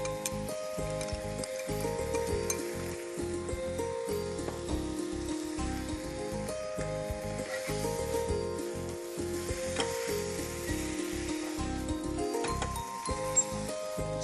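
Noodles and vegetables sizzling steadily in a hot pan as sauce is poured in, a continuous crackling fry with stirring clatter throughout, close and moderately loud, with no one talking.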